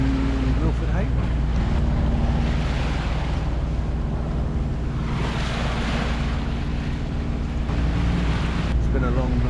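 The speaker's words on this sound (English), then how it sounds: "The engine's on because the wind died and the tide is against us. So we're just motoring the last 30 miles into Milford Haven." A sailboat motors at sea into Milford Haven in light wind against the tide, its engine a steady low drone under a constant wash of water and gusting wind noise.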